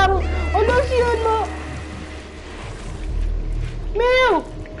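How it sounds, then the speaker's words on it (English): Cat meowing in the video game Stray, several drawn-out whining meows in quick succession, then a pause and another meow, up close over a low background rumble. "Meow."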